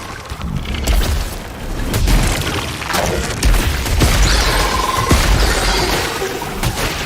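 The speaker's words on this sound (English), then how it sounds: "Love the way you have these waves of lasers still coming at you" Lasers and explosions in the video game Returnal: loud, dense rumbling booms and bursts layered with whooshing energy blasts and sharp zaps, continuous and intense throughout, with no speech.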